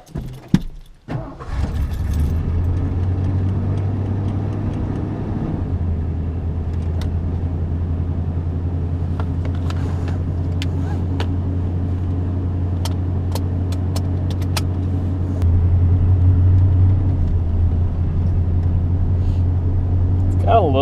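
A truck with a 460 engine idles with a low, steady rumble after starting, stuttering slightly when cold with a poorly set choke, the note rising briefly near the end, and keys jingle at the start.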